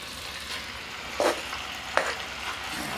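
Chicken sizzles steadily as it fries in olive oil in a hot pan over medium-high heat, a constant hiss with two brief louder spatters.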